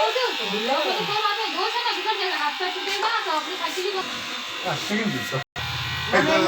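Electric hair clipper cutting a child's hair, a steady close buzz running almost throughout with a brief cutoff near the end, while people talk over it.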